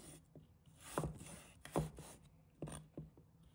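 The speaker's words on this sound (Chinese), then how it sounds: "一块生姜，把它切成小块。" A knife chopping fresh ginger into small pieces on a cutting board, a few sharp separate thuds spaced unevenly, close and fairly quiet with no talk.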